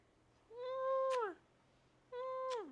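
A one-year-old cat gives two clear, close meows, a longer one and then a shorter one after a short pause, in a quiet room.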